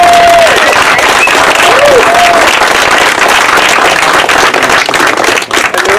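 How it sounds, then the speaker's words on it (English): Community crowd applauding at a public water campaign signature turn-in, dense loud clapping with a few cheers and whistles, sustained for several seconds. "So you deserve applause."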